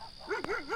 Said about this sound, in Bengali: দূরে কুকুর ডাকছে